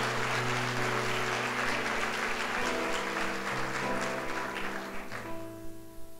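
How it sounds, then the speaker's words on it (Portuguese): Sunday church service congregation applauding, dense crowd clapping over sustained organ or keyboard chords that keep playing as the applause tapers off near the end. "Dê um aplauso a Jesus"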